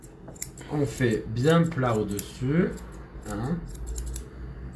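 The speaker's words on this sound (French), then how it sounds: "c'est ma paire de ciseaux préférée" Grooming scissors snip through poodle fur in quick metallic clicks, heard close up beneath someone talking over most of the stretch, with a few crisp cuts standing out in the pauses.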